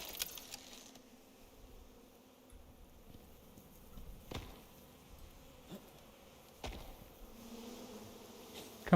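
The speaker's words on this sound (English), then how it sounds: "Where are these bees I can hear?" Bees buzz in a cave in the survival video game Icarus, a faint, steady insect drone with a few sharp clicks and bumps, no talking.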